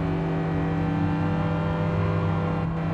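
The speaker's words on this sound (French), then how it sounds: "On m'attaque sur la droite, par la Toyota Prius." Toyota Prius race car in Gran Turismo 7, its engine holding a steady, loud drone throughout with a constant pitch and a slight whir.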